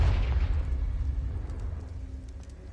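A Confringo blast spell explodes in Hogwarts Legacy, a deep booming burst that rumbles loudly at first and then slowly fades, with no talking over it.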